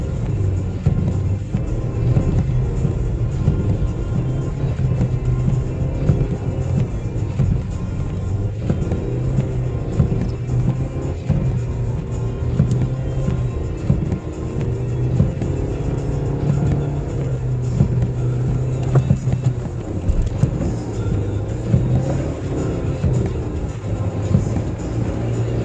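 A car drives along a snowy Tennessee road during the January 2016 winter storm at about 50 mph, its engine and tires giving a steady, close rumble throughout with no talk.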